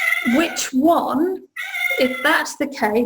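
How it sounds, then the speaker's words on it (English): A cat meows repeatedly indoors, several drawn-out, wavering cries coming close and loud, interleaved with a person talking over and between them. "that's my cat, sorry, she's just come in"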